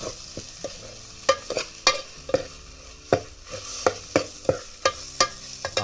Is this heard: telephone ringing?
no